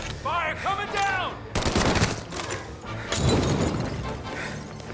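Gunfire in the video game Mafia Definitive Edition, a couple of close, loud bursts with sharp shattering impacts, alongside shouted voices.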